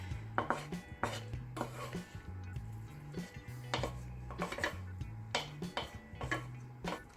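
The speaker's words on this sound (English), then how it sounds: "I'm just going to stir everything together" Spoon clacking and scraping through a bowl of tomatoes, feta, pine nuts, rice, parsley and beans being mixed for stuffed capsicums, with irregular close knocks and clatters over a steady low hum.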